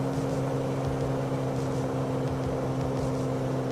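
A steady, droning aircraft engine idles and rolls along during taxiing in Microsoft Flight Simulator 2020, with a constant low hum and no speech.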